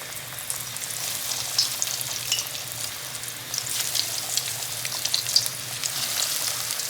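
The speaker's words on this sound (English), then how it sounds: "So our oil is nice and hot, so we're gonna go ahead and drop our frozen sticks right in the oil" Frozen sticks frying in hot oil, a steady hissing sizzle with fine crackles, moderately loud and continuous throughout without any speech.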